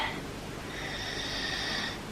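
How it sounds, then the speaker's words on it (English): A man snoring indoors at home, one slow drawn-out raspy breath of moderate loudness, close by, with no talking. "He stopped snoring, maybe he's woken up."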